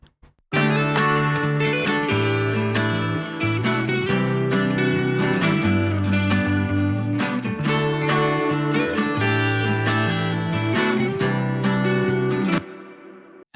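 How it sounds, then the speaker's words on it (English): Layered electric guitars, a plucked lead and a strummed rhythm part, play together in an indie folk chorus, forming a dense, full, continuous wall of chords and melody at steady volume. "So all our guitars together sound like this."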